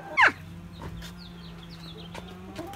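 A chicken at a squirrel-proof chicken feeder gives one short, close cluck near the start, followed by a quiet outdoor background with faint bird sounds.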